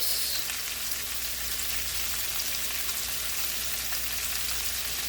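Cabbage braising in a hot pan with salt and pepper gives a steady, close sizzle with scattered sharp pops and crackles running the whole time, no voices.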